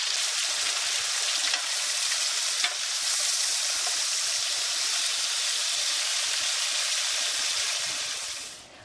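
Beef cubes frying and browning in a pan with their juices released, making a loud, continuous close-up hiss and sizzle that holds steady and then fades at the end.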